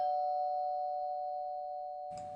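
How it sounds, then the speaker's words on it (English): A single sustained electronic doorbell chime tone rings steadily and slowly fades, ending with a brief burst of noise. "I like the doorbell sound effect."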